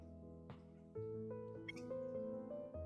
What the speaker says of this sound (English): I can't recall exactly which cat's introduction resulted in Mason getting vocal.